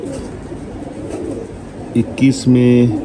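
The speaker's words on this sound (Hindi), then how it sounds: "बहुत शानदार कबूतर है।" Prized racing pigeon, a gifted bird kept for kabootar bazi, gives a few short low coos near the end, close by, after a stretch of background noise with a voice speaking briefly.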